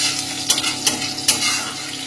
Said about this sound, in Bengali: এই তেলের মধ্যে দেবো কিছুটা রসুন কুচি। রসুনটা একটু ভাজা ভাজা করে নেবো।